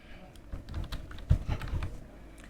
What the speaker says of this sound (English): So when I type something in this cell